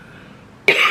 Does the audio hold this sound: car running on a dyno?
no